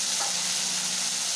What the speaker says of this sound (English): Now add papaya and fry it with salt.